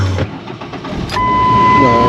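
A car with a manual clutch and roll-up windows cranks over and catches, then settles into a steady, close idle that holds to the end; a faint click and shuffle come just before the engine fires.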